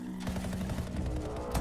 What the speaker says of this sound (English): And the gunshots start.